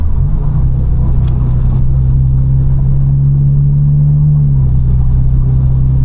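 Straight-piped BMW F32 428i tuned to 500 hp pulling hard, a loud, deep, droning exhaust rumble that holds steady through the clip, heard from inside the car.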